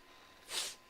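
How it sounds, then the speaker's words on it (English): A single quick, faint sneeze bursts out against a quiet background. "That was a good sneeze."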